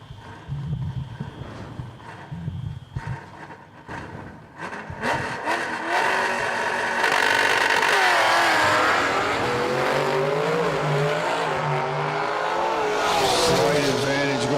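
Ford Mustangs drag racing at a strip, engines building from a distant rumble to a loud sustained roar as the cars launch and run, with an announcer's voice heard early on.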